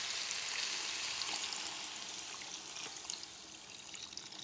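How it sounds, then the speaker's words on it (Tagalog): Water pours into a pan of sautéing pork, giving a bright, steady hiss and sizzle with soft trickling throughout, fairly quiet and close, with no talking. "Tagyan natin ng water."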